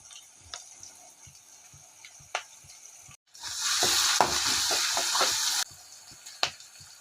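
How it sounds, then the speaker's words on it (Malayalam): Turmeric-spiced drumstick leaf thoran stirred in a pan: quiet scraping and light taps, then a few seconds of loud, bright sizzling and hissing with rapid stirring clatter before it settles back to soft taps. No voices. "ഇനി ഇളക്കി കൊടുക്കാം"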